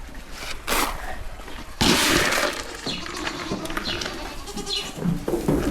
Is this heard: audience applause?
no